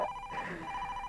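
Telephone ringing indoors, a steady electronic ring tone that pauses briefly in the middle and resumes, heard alone at moderate level.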